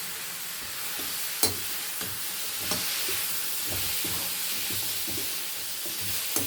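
Brinjal (eggplant) going into a hot frying pan for sambar, a steady broad sizzle with scattered stirring scrapes and a few sharp clicks of utensil against pan, close and continuous.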